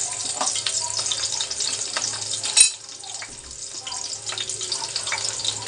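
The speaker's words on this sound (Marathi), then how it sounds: "तर आपण कढीपत्ता टाकूया." Curry leaves hit hot oil in a wok (kadhai) while making dry Malvani-style liver, giving a bright crackling sizzle with a sharp pop as they go in, then steady frying crackle.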